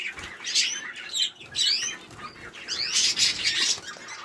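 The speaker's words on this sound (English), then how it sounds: "our new green finches." Greenfinches call inside an aviary with bright, repeated chirps and twittering trills in quick clusters, fairly close, along with some soft wing flutters and faint background noise.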